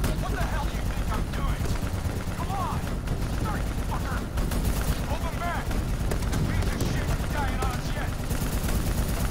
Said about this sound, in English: I'm getting shot from every direction.